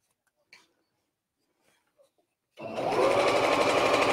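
A few faint clicks and fabric handling sounds, then a sewing machine starts up partway through and runs at a steady, fast whirring rhythm while stitching piping onto fabric.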